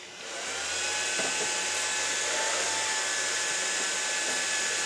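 A computer power supply fan spins up after being switched on, rising from silence into a steady whirring hum with a faint tonal drone, running continuously and fairly close.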